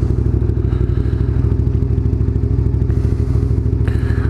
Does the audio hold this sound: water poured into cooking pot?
no